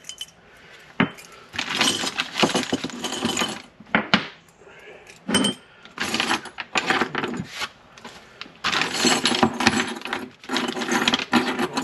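Metal exhaust mounting springs and small parts for an SC Project S1 exhaust on a 2021 Yamaha MT-09 SP are handled out of a parts bag, with irregular clinks, rattles and rustling up close.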